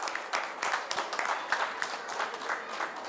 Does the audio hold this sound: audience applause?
yes